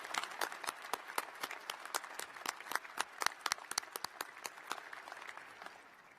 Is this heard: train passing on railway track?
no